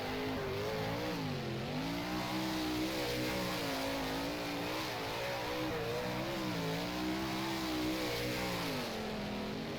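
A sprint car racing on a dirt track in the rFactor sim, its engine note rising and falling steadily through the corners, loud and continuous with no talk over it.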